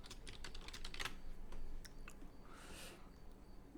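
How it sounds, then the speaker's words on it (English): Computer keyboard typing a short search query: a quick run of crisp key clicks in the first two seconds, close and fairly quiet, followed by a softer burst of activity. "I'm just going to type in fence company near me."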